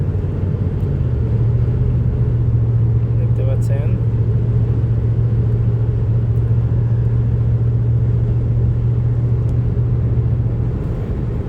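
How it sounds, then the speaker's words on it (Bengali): A car driving carefully through strong wind and a sandstorm in Kuwait, with a steady loud engine drone and rumbling buffeting throughout, while a person speaks briefly over it. "খুব সাবধানে গাড়ি চালাতে হচ্ছে, গাড়ি কাঁপতেছে"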